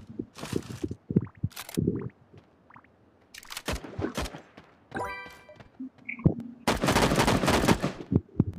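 Rapid bursts of video-game gunfire from Sausage Man, several separate volleys with short automatic strings and single sharp shots between quiet gaps, fairly loud and close.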